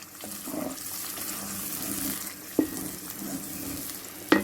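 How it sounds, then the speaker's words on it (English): A kidney bean jollof stew is gently stirred in a pot, giving a soft continuous wet bubbling and sloshing with a couple of sharper knocks of the spoon against the pot near the end. "Be gentle with your mixing, your stirring, guys, because it can easily splash."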